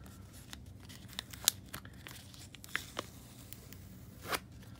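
A mail package being opened by hand, soft tearing and crinkling with a few sharp ripping clicks, close and fairly quiet.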